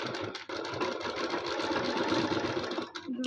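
A sewing machine runs continuously, stitching the lining of a suit, a fast steady mechanical whirr with a brief pause near the start and a short stop near the end.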